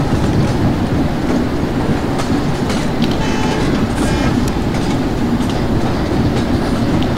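A simulated Indian passenger train runs through the Bhusaval station yard in Open Rails, giving a loud, unbroken rolling roar with light clickety-clack of wheels over rail joints and no speech.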